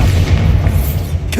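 A Bombarda spell detonates in Hogwarts Legacy, a loud, sustained low boom rumbling through the whole moment with a brief rising whoosh near the end.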